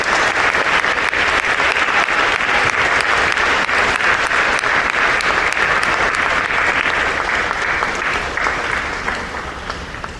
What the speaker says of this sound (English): give them a round of applause for helping you through your educational journey thus far.